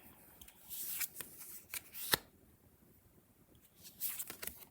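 Soft, quiet shuffling of a tarot deck comes in several short bursts with pauses between them, plus a distinct snap near the middle. No voices.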